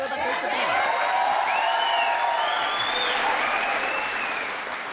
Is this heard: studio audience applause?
yes